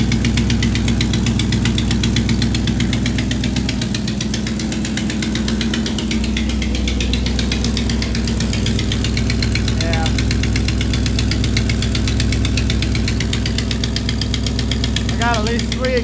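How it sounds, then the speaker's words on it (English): A 1985 K20 truck engine runs at a high idle with several exhaust leaks, a loud, close, steady rumble carrying a rapid fluttering, ticking pulse throughout, with a faint voice briefly in the background. "A little bit of fluttering going on. A little bit of a high idle too."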